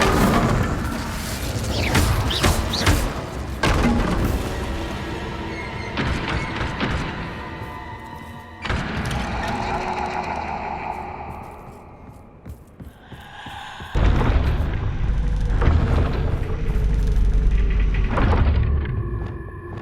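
Spells go off in a fight in Hogwarts Legacy: a string of sharp blasts, whooshes and rumbling impacts that arrive in several bursts, separated by quieter magical hums and swells, loud and close.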